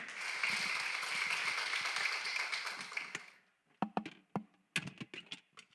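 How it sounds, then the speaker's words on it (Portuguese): A congregation applauds during a church worship service: dense, sustained clapping fills the room for about three seconds, then breaks into scattered individual claps that trail off. "Vamos aplaudir ao Senhor nesse instante."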